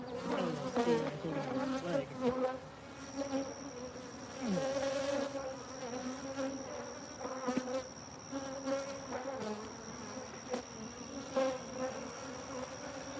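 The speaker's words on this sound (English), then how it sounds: "these bees are not going to like this" Honey bees buzz steadily and close by, several overlapping drones rising and falling in pitch as they fly around, with no speech.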